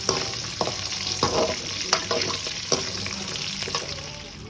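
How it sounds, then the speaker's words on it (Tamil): A whole large chopped onion sizzles in a hot pan for raw mango thokku, a steady close hiss broken by regular scraping taps of a stirring spoon. "இப்போ நெக்ஸ்ட்டு நம்ம கட் பண்ணி வச்சுருக்க அந்த ஒரு முழு பெரிய வெங்காயம் அதை ஆட் பண்ணிக்க போகிறோம்."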